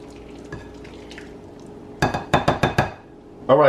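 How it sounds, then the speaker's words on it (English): A spoon folds potato salad ingredients in a bowl: a quick run of five or six sharp clinks and scrapes against the bowl, close and fairly loud after a quiet start. "we're going to fold everything in"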